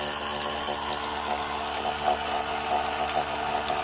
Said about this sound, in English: the water is flowing into the reservoir tank